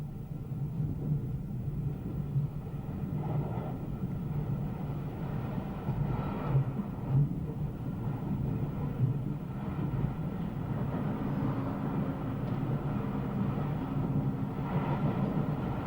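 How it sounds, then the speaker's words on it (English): Steady low rumble of an LT&S electric train pulling away from Leigh-on-Sea station on full power, a continuous, even roar of wheels and motors throughout with no voices. "our driver starts away selecting notch 4 on the power controller, making full use of the maximum acceleration of the train"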